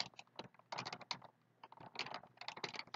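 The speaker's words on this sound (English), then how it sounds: "Sorry for my loud keyboard" Rapid clattering keystrokes on a computer keyboard, steady and close, with brief pauses between flurries of typing.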